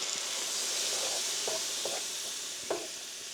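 Gravy sizzles with a steady hiss in the pan while whole milk goes in a little at a time, with a few soft stirring knocks and bubbling pops over the frying noise.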